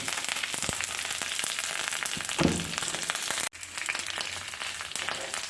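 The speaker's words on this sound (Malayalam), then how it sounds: "ഇത് നന്നായി മിക്സ് ചെയ്ത് നന്നായി വഴറ്റിയെടുക്കുകയാണ്" Shallots, dried red chillies and curry leaves sizzle in hot oil in a pan, a steady close crackle with a brief louder spatter as the pan is stirred, and no talking.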